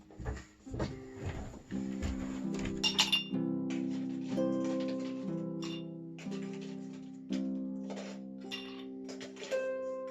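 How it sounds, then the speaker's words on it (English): Ice cubes clink and rattle into a glass in a series of bright, ringing taps spread over several seconds, fairly close but soft. "pretty quickly we're going to need to put some ice into that glass"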